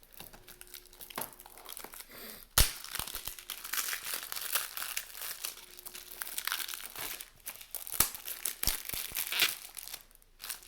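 Plastic packaging on a Japanese collector's edition video game box crinkles and crackles continuously up close as it's torn open, with sharp snaps punctuating the dense rustle.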